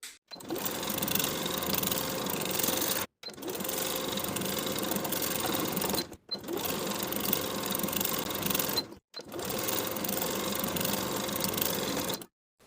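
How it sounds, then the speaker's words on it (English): Close, loud sewing machine sews pants onto the bottom of a waistband with a half-inch seam allowance, running in four long steady bursts with brief stops between them. "sew the pants to the bottom of the main waistband with a 1/2 inch seam allowance straight across"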